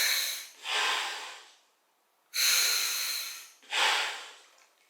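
A scuba diving regulator's second stage being test-breathed: three strong hissing bursts of air, each swelling and tapering off, with a short silent gap before the second, close to the listener and with no talking.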